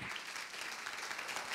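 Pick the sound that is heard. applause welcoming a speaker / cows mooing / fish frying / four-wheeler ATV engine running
applause welcoming a speaker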